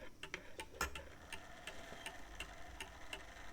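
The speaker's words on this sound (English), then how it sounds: "There's something comforting about the tick-tock of a clock." A mechanical chiming clock ticks steadily in a quiet room, each tick faint but crisp and evenly spaced, roughly two to three per second, with nothing else heard.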